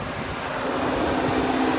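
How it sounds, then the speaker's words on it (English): A 2026 Ford Ranger Lariat FX4's 2.3-liter turbocharged four-cylinder runs at a steady, even idle, heard close and fairly loud as a constant hum with no talk over it. "This engine's purring relatively loud"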